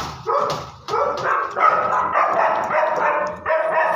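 Several pet dogs bark and yip excitedly at feeding time, a rapid run of loud, close barks repeating in bursts over about four seconds with no talk.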